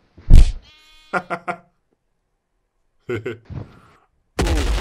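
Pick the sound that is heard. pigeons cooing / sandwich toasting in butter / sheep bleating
sheep bleating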